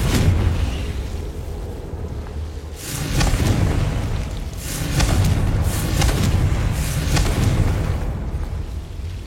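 A Confringo spell in a video game sets off deep booming explosions, loud rumbling bursts that swell and roll several times in a row with no talking over them.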